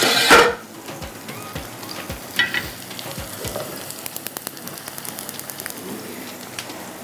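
A patty seared on a hot tawa griddle gives a steady close sizzle with small popping crackles and a few soft knocks, after a brief louder scrape at the start.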